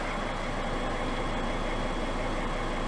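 Mercedes 270 CDI diesel engine idling with a faulty alternator, a steady close mechanical drone and clatter at constant level throughout, with no voices.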